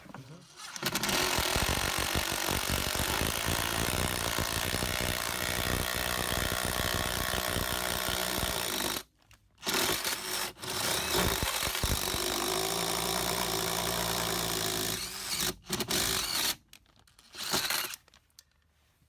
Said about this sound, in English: So this is the paddle drill bit that we are going to work with.